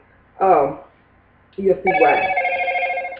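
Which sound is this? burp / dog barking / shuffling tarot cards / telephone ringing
telephone ringing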